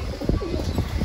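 Racing pigeons coo in a loft, a soft, low, continuous burbling close by with a steady murmur of the flock behind it.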